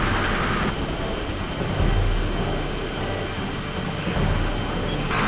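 Military jet planes roar steadily through a combat mission in the video game Ace Combat 5, a continuous loud engine drone with slight swells, no voices.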